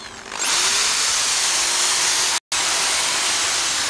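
A rotary hammer drill being set up to mount a satellite dish pole on a wall runs loud and steady with a high whine, broken once by a brief cutout before it resumes.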